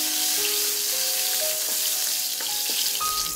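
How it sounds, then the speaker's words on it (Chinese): Garlic sizzles and fries steadily in hot cooking oil in a wok, a continuous close crackle with light stirring scrapes and no voices. "再加点食用油，加入大蒜炒香"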